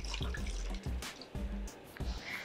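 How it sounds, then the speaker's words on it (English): Water from a measuring cup poured into a blender holding keto chicken tortilla soup ingredients with tomato-based bouillon, a steady splashing pour with short breaks, close and alone. "I'm gonna add 1 cup of water to this."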